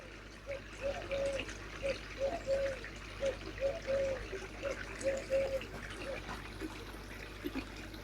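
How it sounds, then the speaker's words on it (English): Water pours steadily through a koi pond filter after the pump is restarted, giving a continuous trickling flow with soft splashy texture, moderately near and fairly quiet throughout. "Water's pouring through now."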